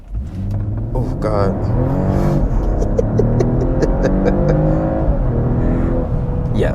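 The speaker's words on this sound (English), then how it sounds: "I'm just going to floor it from a dead stop here once the car comes to a complete stop" A 2021 Mercedes-Benz E450 Cabriolet accelerates hard from a standstill, its engine note a steady loud hum and throb that climbs through rising gears, heard from inside the cabin with a short spoken exclamation near the start.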